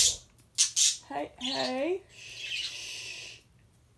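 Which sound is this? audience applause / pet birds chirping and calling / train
pet birds chirping and calling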